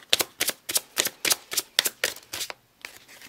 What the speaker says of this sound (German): jetzt kommen wir dazu, die Karten zu mischen